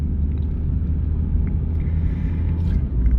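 A Dodge Neon fitted with a rebuilt 2000 3-speed automatic transmission cruises along, producing a steady low engine and road rumble heard from inside the car, with no speech.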